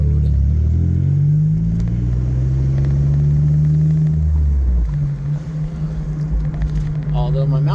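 A 1995 Toyota Celica GT is driven, its engine hum climbing steadily in pitch, then dropping with a gear change before settling into a lower, even drone, heard from inside the car.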